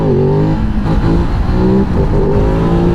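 A 2024 Ducati Desert X Rally motorcycle engine revs hard and loud up close as the bike accelerates through the gears into a wheelie, its rising pitch steady for the whole few seconds.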